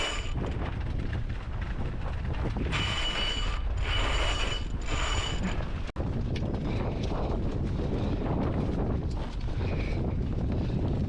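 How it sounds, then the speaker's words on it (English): Sailboat mainsail being hoisted with two reefs, pulleys running and a ratchet clicking almost continuously over steady wind and boat noise for about eleven seconds, with one brief dropout midway. "I'm going to put the main up, and we're going to do 2 reefs in the main to start with"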